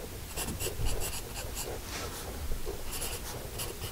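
Sharpened Nataraj Bold pencil printing letters on paper, a steady scratchy graphite scrape with short stroke bursts, close and fairly quiet, no voices.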